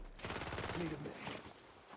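Rapid bursts of gunfire rattle in a computer shooter game, a dense fusillade lasting about two seconds, loud and close.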